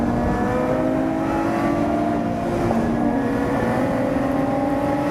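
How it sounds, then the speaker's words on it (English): A loud Lotus sports car engine on the Silverstone circuit drones steadily at high revs, a continuous throaty roar with no break. "Such a noisy car though."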